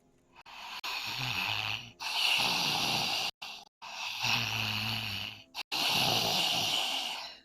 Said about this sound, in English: ragged breathing coming from behind some of the tombstones.